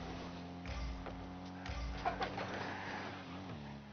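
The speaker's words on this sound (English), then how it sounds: "Why did that just sound like a chicken?" Chicken-like clucking sound in a video game, a few short bird-like clucks near the middle over a steady engine-like hum, faint and brief.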